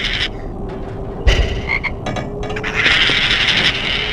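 Chocolate frog croaking in the PS2 game Harry Potter and the Sorcerer's Stone, loud, close croaks in a few uneven bursts, heard alone.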